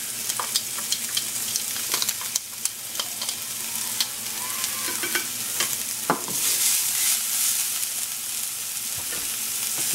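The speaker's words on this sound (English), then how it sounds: "I have minced up my garlic and ginger, and you're going to saute that." Minced garlic and ginger sauteing in coconut oil in a pot, a steady close sizzle with repeated scraping and stirring clicks from a utensil throughout, no voices.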